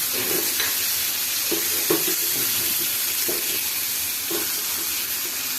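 Chopped tomatoes frying in oil with cumin, coriander and turmeric masala in a pan, a steady close sizzle broken by a few soft stirring scrapes, with no talk.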